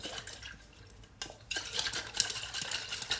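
A utensil stirs and mixes the contents of a pot in a kitchen, with scraping and clinking strokes that grow busier and louder after a brief pause, close and without talk.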